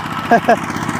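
A water well drilling machine's engine runs with a steady, close mechanical drone and rhythmic low throb, while someone speaks briefly over it.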